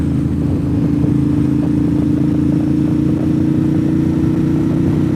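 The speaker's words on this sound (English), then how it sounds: "I don't want you to all to see me driving like a fool through the Great Smoky Mountains" A vehicle driving through the Great Smoky Mountains, a steady loud engine drone with road rumble and interior rattle, continuous with no talking.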